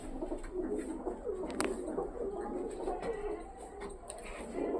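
Pigeons cooing continuously in a loft, a steady murmur of overlapping low coos with a few sharp flutters and clicks.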